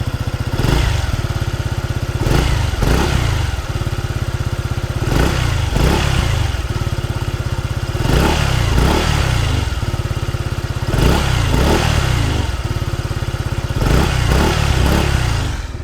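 A Zontes 150X motorcycle engine idles close by with a quiet, steady putter, repeatedly revved in short bursts that rise and fall throughout.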